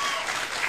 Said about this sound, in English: There's a man with a long beard back there clapping.